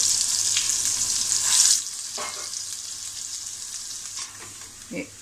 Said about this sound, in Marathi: जे आपण वाटून घेतलं होतं ते वाटण त्यात टाकून परतायचं आहे